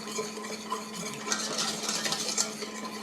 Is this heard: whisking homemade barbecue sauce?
yes